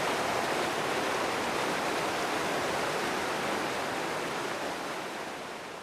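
Steady, dense rushing water from rapids on the Eau Claire and Big Rib rivers in Wisconsin, a broad continuous roar that holds constant and eases slightly toward the end, with no voices.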